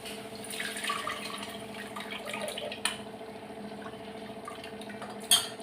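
Tamarind is squeezed and stirred into water in a kitchen for rasam, soft sloshing and drips with a couple of sharp little clinks, fairly quiet and close.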